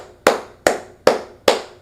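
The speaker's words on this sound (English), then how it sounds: "usually when I'm saying nice things and I start to clap" Four sharp hand claps at an even, unhurried pace, close and clear with nothing else heard between them.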